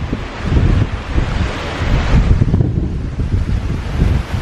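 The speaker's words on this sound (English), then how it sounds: "As you can see, the winds, it's blustery." Strong blustery wind buffets the microphone on a white sandy beach at Agua Amarga, Spain, a loud continuous roar with gusting surges and no talk.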